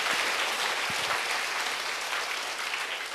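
A church congregation claps together during a Sunday worship service, a steady, sustained wash of applause filling the room without a break and with no voices over it.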